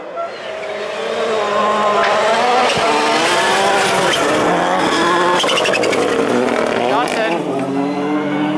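Touring autocross race cars battle in close contact during a heat at Přerov, engines roaring loud and continuous with rising and falling revs, tire noise and a commentator talking over the action throughout.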